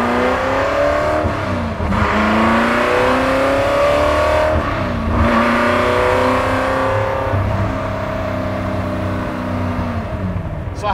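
A 1965 Ford GT40 Superformance accelerates hard through several gear shifts, its engine rising in pitch, dropping at each change and climbing again, loud and close with no talk.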